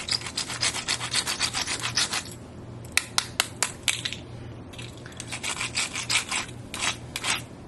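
Barbie Flicker 'N Flash doll rollerblades scratched against a surface, close rapid rasping scrapes in quick repeated bursts, with a brief pause of sharper single scratches in the middle.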